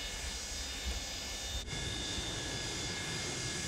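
Boeing 727-200 jet engines idling as the airliner taxis in Microsoft Flight Simulator, a steady, even whine and rumble held at constant loudness with no voices over it.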